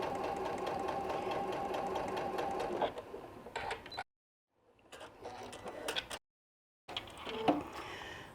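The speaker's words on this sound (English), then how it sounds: "And then just go ahead and sew off to the edge." A sewing machine runs a steady, close whir while sewing a seam to the edge of a trillium quilt block, then drops to quieter short runs broken by two brief silent pauses.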